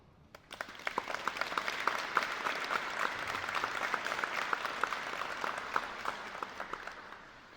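Audience applause at a concert of a Kashubian triptych, a steady dense wash of many hands clapping that swells in quickly and holds at a moderate, fairly distant level without talk.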